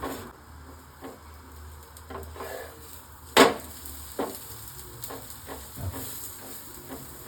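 Aloo paratha frying in oil on a hot pan, a steady low sizzle and hiss with soft scrapes and one sharper clatter partway through, close by and with no talking.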